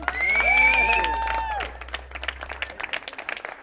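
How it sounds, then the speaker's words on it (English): A sustained voice or tone opens, then an audience at a professional branding talk breaks into applause, a crisp scattered clapping of a modest crowd that fills the second half. "can I have a very warm round of applause for the man who actually made it happen, which is Nacho Rodriguez."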